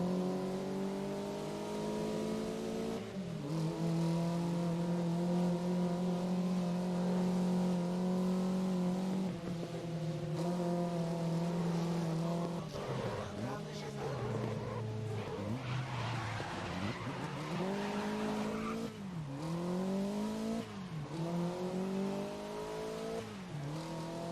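Racing car engines roar in the video game Grid 2019, a close engine droning and revving through gear shifts with tires skidding and squealing through corners, pitch rising and falling in sweeps over a steady rumble.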